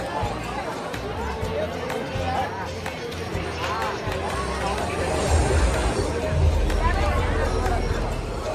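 Dense crowd babble fills a busy outdoor art festival, the Upvan Art Festival, with many overlapping voices and shuffling activity swelling slightly louder toward the end, all steady and close around the listener.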